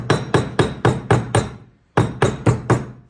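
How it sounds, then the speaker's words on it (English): Sharp metallic hammer taps in two quick bursts, six evenly spaced strikes, a brief pause, then five more, close and crisp, as a hammer taps a trailer wheel-bearing seal into place until flush. "go around with a hammer, tap it in until it's flush"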